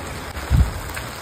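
Heavy monsoon rain falls steadily as a dense, even wash of noise on wet streets and surfaces, with one brief low thump partway through and no voices.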